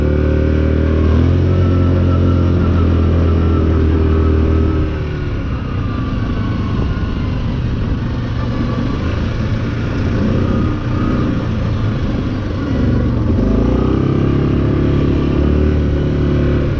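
A Yamaha Grizzly 700 SE ATV on Tusk Megabite tires climbing a trail in four-wheel drive, its engine loud and close with a steady drone that dips briefly midway, and no talking.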